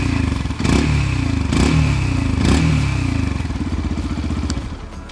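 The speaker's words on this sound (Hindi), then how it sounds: "क्या आपको इस Yamaha FZX मोटरसाइकिल की एग्जॉस्ट नोट पसंद आई।" Engine and exhaust of a 2021 Yamaha FZ-X motorcycle, a steady loud idle with a deep pulsing beat, rising in three short revs before settling back to a throbbing idle.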